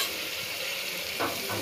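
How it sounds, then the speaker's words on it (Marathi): Chicken with turmeric cooking in a pot gives a steady, close hiss and sizzle that runs the whole brief moment, with a slight bubbling swell near the end. "चिकन शिजाय ठेवलेलं आहे."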